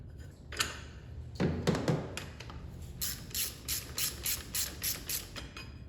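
A stubby ratchet loosens a bolt on a Volvo XC90. After some faint shuffling and handling noise, it gives a run of evenly spaced, crisp clicks, close and fairly quiet.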